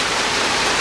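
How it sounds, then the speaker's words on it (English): Rain falling as a loud, dense, steady hiss of broadband noise, with no voices over it. "Here's the rain."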